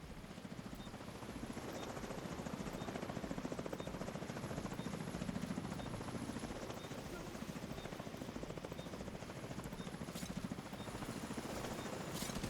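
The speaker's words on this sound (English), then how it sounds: "Chopper inbound." An extraction helicopter arrives in the video game The Division 2, its rotor thumping in a steady, fast pulse that holds at an even, moderate level for the whole stretch.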